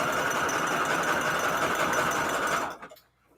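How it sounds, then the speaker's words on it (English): A sewing machine runs steadily stitching down the middle of a patchwork junk journal cover made of fabric scraps, a continuous loud whirring drone that stops abruptly near the end. "Okay, so I'm just sewing down the middle of this."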